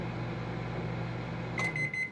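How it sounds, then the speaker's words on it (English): Microwave oven running with a steady low hum while heating a frozen bacon, egg and cheese croissant sandwich in its bag, followed by a short electronic beep near the end. "So I'm gonna throw it in the microwave for a minute and see what we end up with."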